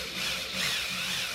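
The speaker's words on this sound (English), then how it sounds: "screw it in place, see how it found the hole, and then it sucks it real tight up to the back of the drywall" A power drill drives a screw into drywall, giving a brief, quiet whirring buzz with a slight rise and fall.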